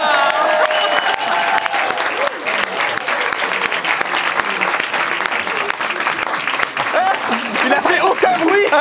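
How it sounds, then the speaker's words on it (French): A studio audience applauds steadily and loudly for a guest arriving on set during a live talk show, with scattered cheers and voices mixed into the sustained clapping throughout. "On va t'applaudir normalement quand tu vas arriver."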